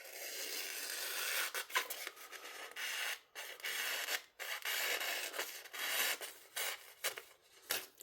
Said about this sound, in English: just the tiniest little bit more strop